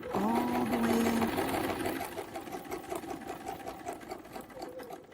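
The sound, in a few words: sewing machine stitching quilt panel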